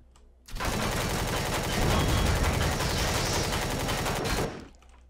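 The player's gun in the survival game Empyrion Galactic Survival fires one loud, continuous rapid-fire burst lasting about four seconds, then cuts off abruptly, with no voices.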